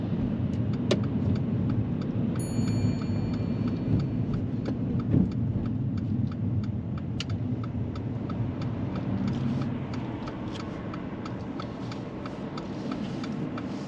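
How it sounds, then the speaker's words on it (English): A car pulls in and parks on the left during a mock driving test, with a steady engine and road rumble inside the cabin that eases slightly near the end, plus occasional ticking clicks and no talking. "If you could pull in and park up on the left-hand side somewhere safe."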